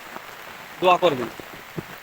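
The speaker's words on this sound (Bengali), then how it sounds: "এখন পানি আরো বেশি হচ্ছে, প্রচন্ড বৃষ্টি হচ্ছে, ভারী বর্ষণ হচ্ছে" Heavy rain falling during flooding gives a faint, steady patter in the background, with someone briefly speaking over it.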